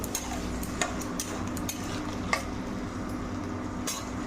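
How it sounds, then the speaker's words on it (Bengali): Potatoes fry with masala in a pan, giving a continuous dense sizzle with occasional light clicks and scrapes of stirring, close and steady throughout. "ভালো করে মশলাটা আলুর সঙ্গে কষে আলুটাকে সেদ্ধ করে ভেজে নেব।"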